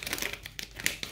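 A small plastic packet holding silver jewellery chains crinkles in quick, rustling bursts at close range, fairly quiet, with no talking.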